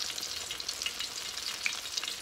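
Pork chops coated in cassava flour frying in hot oil, a steady close sizzle with small crackling pops throughout, no voices.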